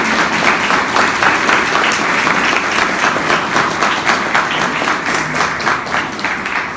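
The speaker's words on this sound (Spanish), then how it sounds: "para quien pido un fuerte aplauso" A dense round of applause welcomes writer Paco Ignacio Taibo II at the Escuela Normal Superior "Manuel Suárez Trujillo", loud and continuous from a large audience, easing slightly toward the end.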